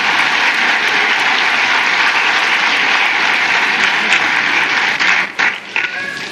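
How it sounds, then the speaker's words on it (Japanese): Sustained, dense audience applause honoring guests at FC Machida Zelvia's 2019 new-lineup presentation event, steady and loud throughout before thinning out with a few stray claps near the end. "ご来賓の皆様に今一度皆様大きな拍手をお願いいたします。"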